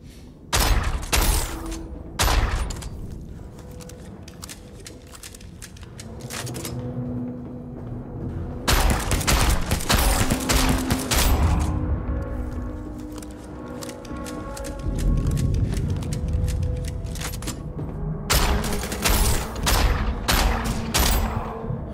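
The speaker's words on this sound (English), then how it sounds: "Shots." Rapid bursts of gunfire from the video game Starsiege Deadzone, loud clustered volleys separated by short lulls, with thuds and booms mixed into the shooting.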